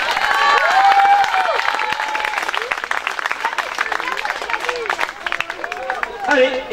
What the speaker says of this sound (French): Allez, on peut les applaudir bien fort du coup.